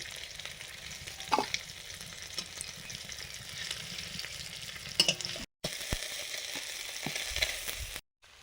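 Small river fish frying in hot oil and being lifted out, a dense steady sizzle with occasional spatula scrapes and taps against the pan, close up, briefly cut by two short silent gaps, no voices.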